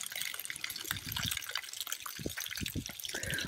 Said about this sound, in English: Should just drain whatever's in the pipe.